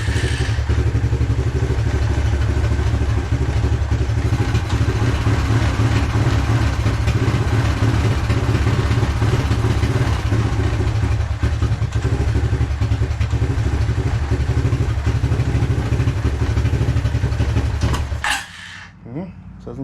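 A 1993 Suzuki King Quad 300 4x4 ATV engine runs steadily at a loud, close idle with mechanical clatter for about eighteen seconds, then cuts out abruptly near the end.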